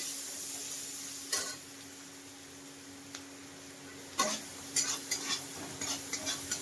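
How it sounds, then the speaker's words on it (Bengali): Chopped onion and ginger fry in a pan under a quiet, continuous sizzle, while a spoon scrapes and taps repeatedly during stirring, the knocks coming faster toward the end. "পেঁয়াজটা তো পেঁয়াজটা মোটামুটি ভাজা ভাজা করে নিয়েছি পেঁয়াজ আর আদাটা"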